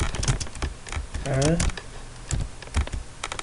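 Keys clicking on a computer keyboard while a captcha is typed in, a run of quick irregular taps alongside a voice speaking.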